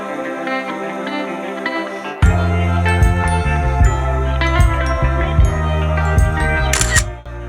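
At a photo booth in Taichung's National Comics Museum, camera shutter clicks ring out over bright, tinkling electronic tones and a sustained hum, loud and close, with no one talking.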